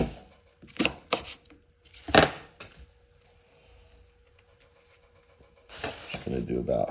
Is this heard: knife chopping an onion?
yes